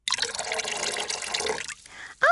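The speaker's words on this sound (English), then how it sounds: "I mixed brown goo powdered drink mix with water" Water pours and splashes steadily into a container as powdered brown drink mix is stirred in, a dense liquid rush that stops abruptly before a brief final splash.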